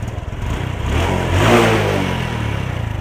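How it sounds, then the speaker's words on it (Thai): A Honda Wave 110i motorcycle engine, which starts hard and stalls after revving, is blipped close up: the idle rises into a single rev and then settles back toward idle. "เดี๋ยวลองเบิ้ลเครื่องดูมันจะเป็นแบบไหนนะครับ รอบเครื่องมาครับ"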